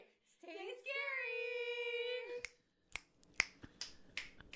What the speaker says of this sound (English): We're gonna be snapping instead of clapping.